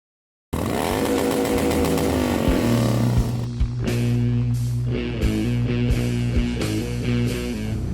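A custom Harley Davidson CVO motorcycle engine runs loud and close, steady at first, then stutters through a series of sharp throttle blips and brief cuts as the revs rise and fall.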